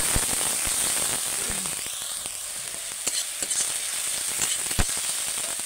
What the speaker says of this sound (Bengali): কড়াতে আমি আবার একটু তেল দিয়ে দিয়েছি, দিয়ে ওতে আমি আদা রসুনের পেস্টটা ঢেলে দেবো